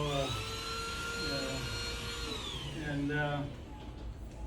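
A vacuum modified into a beetle sucker, its end closed off and fitted with a tube, drones with a whining tonal pitch that dips and rises as it sucks at a hive, while someone talks over it.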